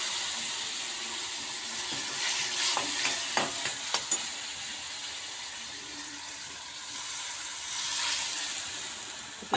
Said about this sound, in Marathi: ही फोडणी जी आहे ती आता या भाजीवर आम्ही घालणार आहोत